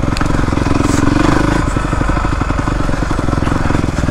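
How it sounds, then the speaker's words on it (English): A dirt bike engine runs at low RPM while riding slowly across a grass field, giving a loud, close, steady throbbing putter with no strong revving. "I'm not giving this bike a lot of gas, but I'm also not going at a high rate of speed either."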